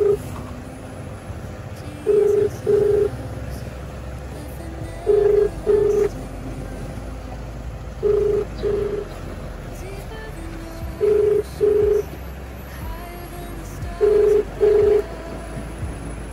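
Telephone keypad dialing tones for a phone call, short paired beeps repeating in five or six evenly spaced bursts roughly every three seconds over a low background hum, with faint talk around them.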